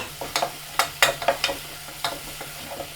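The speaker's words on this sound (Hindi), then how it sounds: "इसको हम 2 मिनट तक सौते कर लेंगे ताकि जिंजर गार्लिक का स्मेल ख़त्म हो जाए।" Ginger garlic paste sautéed with browned onions, stirred in a pan with a soft sizzle and repeated scraping strokes, close and moderately loud, with no voices.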